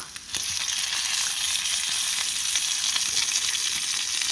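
Grilled cheese sandwiches frying in oil in a pan, a loud continuous close sizzle after a brief quieter start, with no voices.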